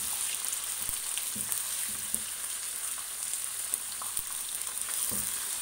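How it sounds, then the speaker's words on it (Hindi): Chicken sizzles steadily in hot oil with onions for an aloo chicken curry, a continuous crackling hiss with a few sharp pops and occasional stirring scrapes, close and fairly even throughout. "अब हम इसी ऑयल में चिकन को अच्छी तरह फ्राई करेंगे"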